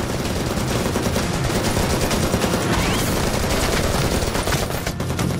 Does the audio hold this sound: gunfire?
yes